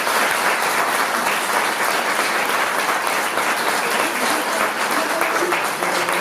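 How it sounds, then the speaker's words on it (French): A dense, sustained round of audience applause fills a ceremony for a French ONM decoration, loud and even throughout with no break. "Et je vous demande de l'applaudir."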